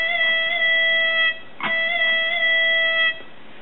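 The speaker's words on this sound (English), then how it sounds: "I wanted to make it sound like the guitarist was stretching the string as the note played." A synthesized guitar note from MTV Music Generator holds steady tones that step upward with pitch bend and then drop off, a thin, band-limited sound played alone.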